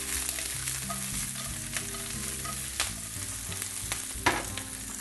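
Butternut squash and kale drop into a hot pan with little oil and sizzle steadily up close, with a few light utensil clinks and one sharp knock near the end.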